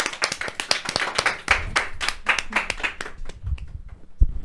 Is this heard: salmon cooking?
no